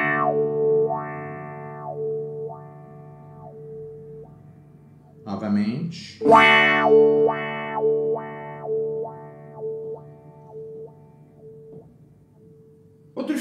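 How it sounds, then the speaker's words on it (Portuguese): Guitar tone through a wah-wah pedal, the pitch sweeping repeatedly up to a bright, nasal peak and back down to a darker tone, with brief talk in the middle. "Quando eu apertar o wah-wah, eu vou ter o som mais agudo. E quando eu desapertar, o som vai ficar mais grave."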